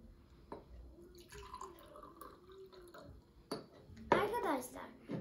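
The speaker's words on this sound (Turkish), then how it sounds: "Şimdi birazcık daha altı dar olan, üstü geniş olan bir çay bardağımıza dökeceğim." Liquid poured into a Turkish tea glass with a narrow bottom and wide top during a classroom liquid-measuring experiment: a rising, gurgling pour near the end, with light glass clinks and a person speaking earlier.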